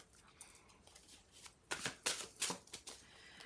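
Tarot and oracle cards are shuffled by hand, soft riffles at first, then a burst of sharper, quick close flicks and slaps.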